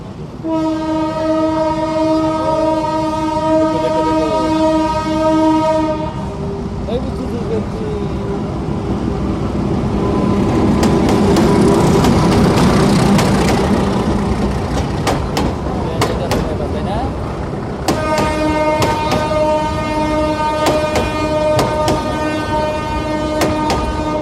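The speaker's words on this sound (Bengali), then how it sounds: "ওই যে পিছনে ট্রেন" A train passes close by during a morning walk, with a sustained horn blast, then a rumbling roar and rhythmic clatter of wheels on rails, and the horn sounds again near the end. Voices talk faintly underneath.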